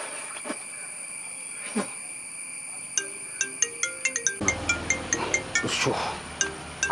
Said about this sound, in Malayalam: ആരോടാ ഫോൺ അടിന്ന് കുറേ നേരമല്ലോ